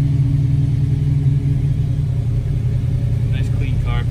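A 1970 Chevy C10 Stepside engine rumbles at a steady, loud idle up close, a deep low burble running throughout with a brief higher sound near the end.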